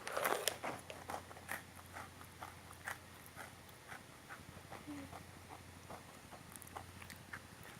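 Someone bites into a chocolate-dipped crunchy snack and chews, with a sharp crunch at the start followed by soft, irregular crunching and chewing close to the mic, fairly quiet, with no talk.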